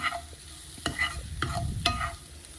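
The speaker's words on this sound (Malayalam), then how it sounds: "ഇതുപോലെ അതിൻ്റെ പച്ചമണം മാറുന്നവരെ ഒന്ന് വഴറ്റി കൊടുക്കുന്നുണ്ട്" Onion and turmeric sautéing in a pan over medium-low flame, with a steady low sizzle broken by three distinct spatula scrapes and stirs, close and fairly quiet, no voices.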